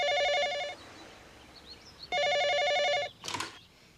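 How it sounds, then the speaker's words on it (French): A telephone rings in two long electronic bursts with a pause between, fairly loud and close, followed by a brief clatter as it is picked up. "Téléphone."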